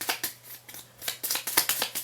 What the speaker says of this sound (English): we can shuffle a new miss card into this deck here